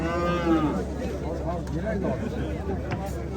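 A cow moos loudly and close at a livestock market in Angren, Uzbekistan, a long low bellow over a steady background hum.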